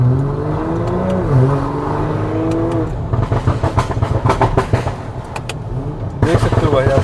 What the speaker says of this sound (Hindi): खतरनाक पॉप्स एंड बैंग्स है भाई बिल्कुल